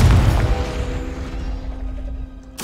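A Confringo explosive spell goes off in Hogwarts Legacy, a loud booming blast with rumbling low end that slowly decays over two seconds, followed by a sharp new burst right at the end.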